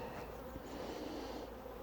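Honey bees buzz through a hive inspection, a steady, continuous hum that stays fairly quiet and even for about two seconds with no voices.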